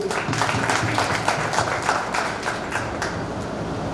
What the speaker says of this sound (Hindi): जोर से ताली हो रहा है हम सब लोगों के लिए